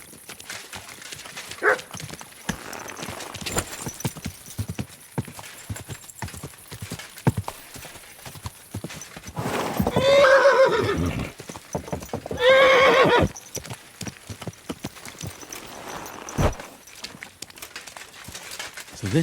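Horse hooves clip-clopping and a horse neighing in Kingdom Come Deliverance 2, with two loud whinnies standing out midway over steady background game sounds.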